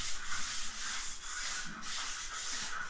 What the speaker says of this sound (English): I will wipe this entire room down with a sanding sponge